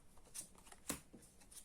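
Yu-Gi-Oh cards are shuffled by hand, giving a quiet, close, brief riffle of soft papery flicks with one sharper snap in the middle.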